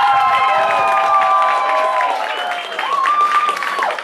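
An audience claps and cheers for performer Andrew at a live show, a loud crowd roar with whoops and shouted voices sliding over the clapping throughout.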